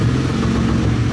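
Toyota Supra Mk3 fitted with a 1JZ engine, driving with a steady low engine drone, close and continuous, heard briefly.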